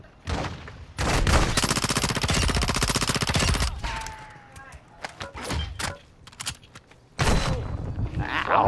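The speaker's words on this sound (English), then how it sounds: "They shooting at me, Caleb." Video game gunfire: long, loud bursts of rapid automatic shooting, then scattered single shots and thuds, then another sustained burst near the end, with a voice speaking in the gaps.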